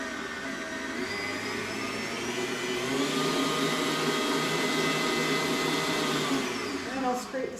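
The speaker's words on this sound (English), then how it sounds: "We're just going to mix this up so it all comes together." Pumpkin brownie dough being mixed in a bowl with an electric mixer, a steady whirring motor drone that runs close and loud throughout, briefly changing pitch near the end.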